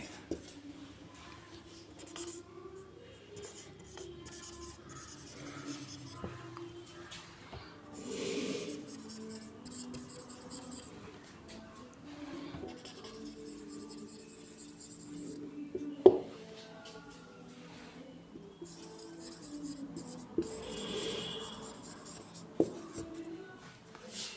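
A sentence written out by hand, probably on a board, with faint, intermittent scratches and taps of the writing tool across a long, quiet stretch, one sharper tap partway through.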